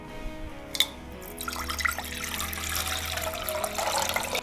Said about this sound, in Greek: Θα χρειαστούμε ένα κατσαρολάκι, θα ρίξω 2 λίτρα νερό